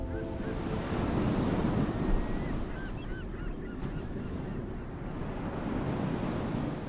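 Sea wind and surf on a bleak, windswept island, a steady broad roar of waves and gusts filling the whole clip, with faint honking bird calls rising briefly above it.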